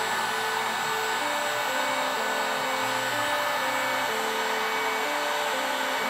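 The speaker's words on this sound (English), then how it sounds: "To remove the glue, use the heat gun in a lower mode" A heat gun softens the glue under a drum wrap on a drum shell, giving a steady, loud blowing whir that runs unbroken throughout, with a faint shifting tonal hum underneath.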